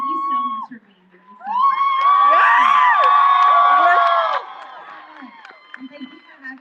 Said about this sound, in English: you're going to clap again